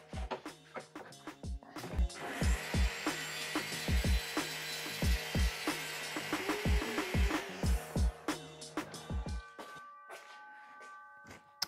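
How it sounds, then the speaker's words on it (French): A hand saw cuts a small ring from a metal tube, with quick, faint rasping strokes and light metallic dings in a steady rhythm, close up, trailing off into a quiet ringing tone. "on va en découper dans un tube en métal."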